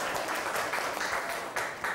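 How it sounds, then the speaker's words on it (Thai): Students in a classroom clap for classmates during a health lesson, a short burst of fairly close, uneven hand claps with a few sharper slaps standing out. "ปรบมือกับเพื่อนค่ะ"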